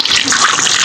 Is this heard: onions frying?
no